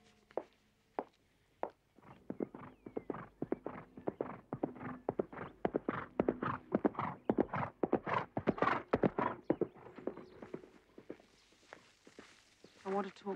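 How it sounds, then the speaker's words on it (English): Horse hooves clip-clopping in a steady run of near, distinct thuds that grow busier through the middle, with people talking over them. "Beautiful horse."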